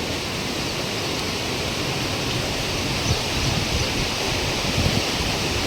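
Water gushing at full force through a cleared channel near a temple, a steady, loud, dense rush with no pauses and no voices.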